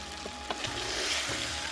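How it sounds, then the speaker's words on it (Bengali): Chicken meat being stir-fried in a pan for a Bengali mango-roasted chicken dish, a steady close sizzle with a few scraping stirs and soft clinks across the short stretch. "এবার মাংসটা ঢেলে এটা দিয়ে ভালো করে কষাতে হবে।"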